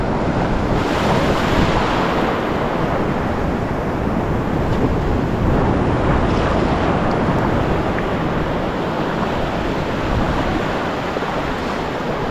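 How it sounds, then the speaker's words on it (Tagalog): Heavy ocean surf and strong wind roar steadily and loudly throughout, buffeting the microphone with no voices. "Sobrang alon."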